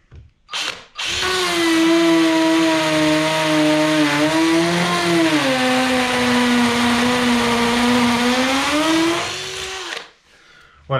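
An 18V cordless hammer drill running in percussion mode bores into a wall with a 6 mm masonry bit, a loud, steady, close whine holding for about nine seconds, its pitch sagging slightly midway before it spins down.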